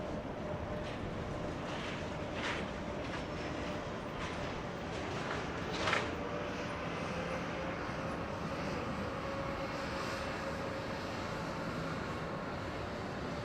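A Southwest airliner landing on runway 24 right at LAX, heard as a steady, distant jet roar that holds throughout with a brief swell midway.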